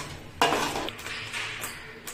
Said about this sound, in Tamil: அரைச்ச மசாலா ஊற்றி கொஞ்சம் நல்லா வதக்கி விட்டுக்கோங்க.